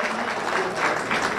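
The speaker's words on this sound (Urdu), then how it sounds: "آپ لوگ تالیوں کی گونج میں ان کا استقبال کریں" An audience at an Urdu academy education day event in Jeddah applauds to welcome a performer, steady clapping from many hands, moderately loud and continuous.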